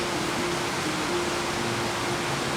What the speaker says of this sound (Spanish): Gracias, Señor, por esta maravillosa lluvia